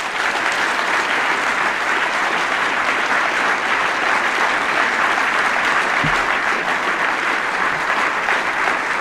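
A large audience gives a long, steady round of applause, a dense, even roar of clapping that stays loud for about nine seconds without letting up.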